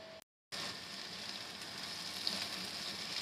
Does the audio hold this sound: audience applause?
no